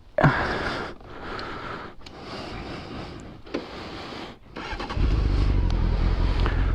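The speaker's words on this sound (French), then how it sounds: "Comme c'est un moteur qui siffle, au début ça faisait comme s'il y avait un turbo en fait." A 2004 Honda CBF 600 S motorcycle with an aftermarket exhaust, heard close: a few short engine bursts and pauses, then a steadier, louder running drone toward the end.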